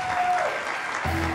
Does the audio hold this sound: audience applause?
yes